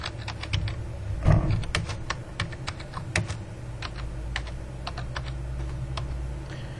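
Steady computer keyboard typing as an address is entered for a cover letter in Word, with clicks coming in quick irregular bursts at close range and no talking.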